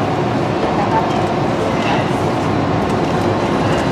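Steady rumbling noise with rolling rattles, loud and close throughout, from riding inside a departing DFW Airport Skylink people-mover train.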